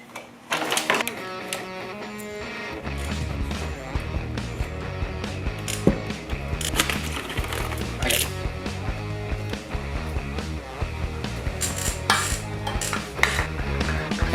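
A ratchet works the bolts loose on a Kawasaki ZX-6R motorcycle during teardown. Rapid clicking runs in bursts, with sharp metallic clinks and rattles of tools and parts mixed in, close and busy throughout.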